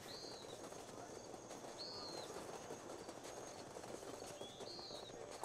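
Bird chirps in the Pillars of Eternity 2: Deadfire video game, a few short high whistling calls spaced across a steady low ambient background, faint and fairly distant.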